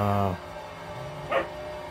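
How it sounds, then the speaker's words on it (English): Dogs bark in the background, one faint yip or bark rising midway after a voice trails off at the start. "As my dogs bark in the background."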